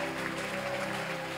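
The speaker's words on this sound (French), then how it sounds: "Acclame encore très fort." Church congregation applauding loudly, a dense continuous wash of clapping filling the room for a brief moment.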